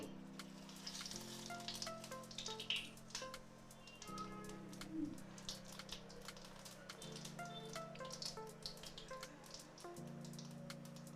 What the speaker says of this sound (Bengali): এবার আমি দিয়ে দেব সাদা জিরে,